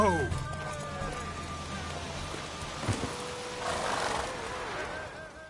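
Hoofbeats of a horse racing in The Witcher 3, with a whinny and clip-clop over game music, and a voice speaking midway through.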